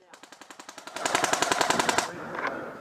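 Airsoft heavy gunner firing automatic bursts during an attack-and-defend game: rapid, evenly spaced mechanical reports, lighter at first then a louder sustained string lasting about two seconds, with faint activity trailing after.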